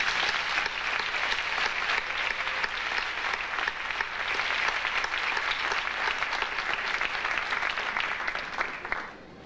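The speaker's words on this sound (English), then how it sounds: "I want you to recognize them by giving them a round of applause" A large crowd applauds steadily at a 2002 Queensborough Community College commencement ceremony, dense, even clapping holding for nearly ten seconds before tapering slightly at the end.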